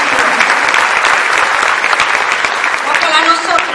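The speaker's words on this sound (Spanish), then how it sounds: "Un aplauso para este joven creyente que quiso ser discípulo." An audience applauds a young believer at a conference event, a loud, steady wash of clapping that stays dense and close throughout without a break.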